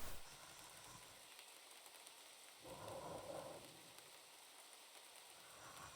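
Steady rain hisses throughout a scene in the video game Mouthwashing, a soft, even patter with a brief swell of heavier noise in the middle.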